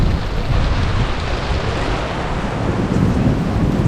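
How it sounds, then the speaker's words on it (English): A thunderstorm squall hits a Leopard 50 sailing catamaran in the Bahamas, bringing a constant heavy roar of rain and gusting wind with low rumbles of thunder rolling underneath. "it's thunder and lightning and varying rain"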